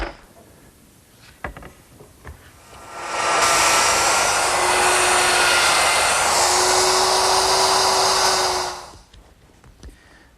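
A router cuts a groove in wood for an umbrella stand while clamped against a guide. A loud, steady, rushing whine holds for about five seconds, then cuts off, with quieter shop sounds before and after.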